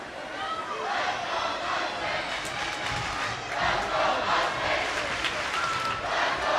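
Mustang basketball fans cheering their team at a high school boys' game between Sheyenne and Fargo Davies: a sustained, loud crowd roar of voices and shouts filling the gym, rising and swelling without a break.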